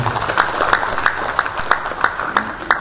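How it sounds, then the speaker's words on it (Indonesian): Applause from a forum audience for two speakers at a national gathering in Gorontalo, a steady dense patter of many hands clapping with sharper individual claps standing out, filling the whole stretch at moderate loudness. "Mari kita memberi aplaus kepada kedua narasumber"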